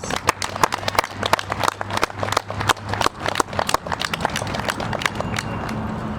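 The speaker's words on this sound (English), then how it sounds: "Let's give them a round of applause." Scattered, uneven hand claps from a small audience at a public gathering of men at the Denver Capitol. The sharp claps come in irregular bursts and thin out toward the end.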